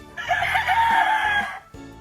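A gamefowl rooster at a backyard breeding yard crows loudly and close in one long call, with other birds faintly in the background.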